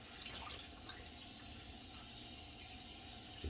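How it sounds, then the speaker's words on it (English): Cold tap water running steadily into a bathroom sink during a shave, a soft, even hiss of flowing water that stays fairly quiet and close throughout, with no talking. "you hear the water running because I just switched over to cold"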